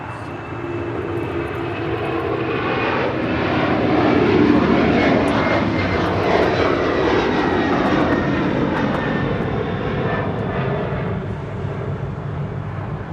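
Delta airliner landing on runway 25 left at LAX, a loud sustained engine roar that swells toward the middle and slowly fades, heard alone without talk.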